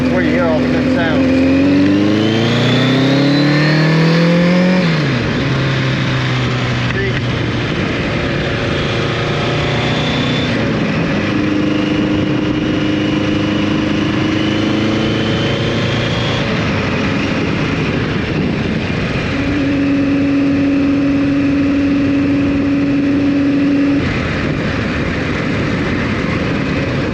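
A Kawasaki GPZ 1100 motorcycle engine drones continuously while riding a two-lane road, its pitch climbing and dropping through gear changes and throttle shifts, with steady wind and road noise layered over the engine throughout.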